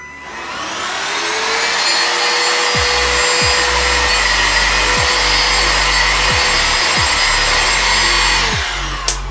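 A Bissell vacuum cleaner picks up dust with a loud, steady whining roar, overlaid by a series of regular thumping strokes as the head is pushed back and forth, then cuts off abruptly.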